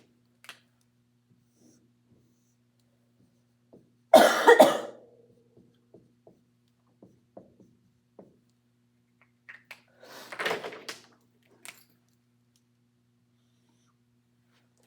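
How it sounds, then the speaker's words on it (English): Two harsh, close coughs from one person, a few seconds apart, the second a rougher double burst, with small clicks and taps scattered in a quiet room between them. "I so thoroughly apologize for my cough"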